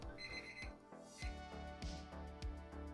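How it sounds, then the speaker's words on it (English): A kitchen timer alarm goes off during a cooking stream making gluten-free oven fried chicken, ringing in repeated pulses about every half second over a dense, steady background. "Timer has gone off."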